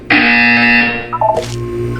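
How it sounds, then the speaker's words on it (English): A loud electronic buzzer from the video game Portal 2 blares for nearly a second, followed by a few short tonal blips as it fades. "You will hear a buzzer."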